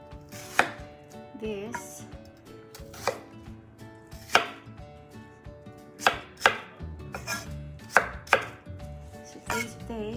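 A knife chopping onions into big chunks on a board, with distinct irregular thuds spaced about every second, close up, and a voice speaking briefly.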